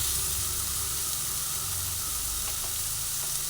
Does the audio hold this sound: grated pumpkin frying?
yes